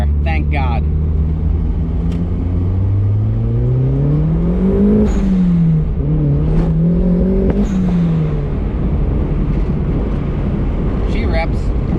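Budget turbocharged Mazda Miata convertible on 14 PSI boost pulling hard through the gears, a loud rising engine drone with a shift dip around the middle, steady wind and road roar throughout and brief speech at the edges.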